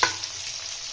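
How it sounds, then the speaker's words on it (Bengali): Onion and green chillies frying in oil in a pan, a continuous soft hiss and sizzle with a small stir clatter at the start, close and steady, no voices. "পেঁয়াজটা একটু ভাজা ভাজা করে নেব"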